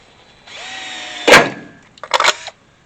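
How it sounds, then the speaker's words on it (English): A power drill whines up briefly, then bites into material with two short, loud grinding bursts while drilling a pilot hole in an old truck, close by and with no talking. "drill a pilot hole."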